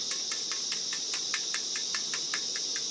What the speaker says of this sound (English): That tapping in the background you can hear, there's a hive that's just starting to swarm